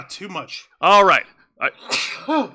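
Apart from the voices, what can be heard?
sneeze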